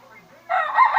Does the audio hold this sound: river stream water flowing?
no